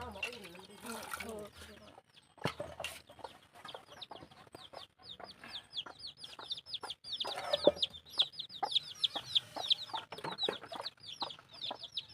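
Chickens cluck and chirp repeatedly nearby during outdoor dishwashing, their quick calls growing busier and denser over water splashes and dish clatter, with a voice talking briefly at the start.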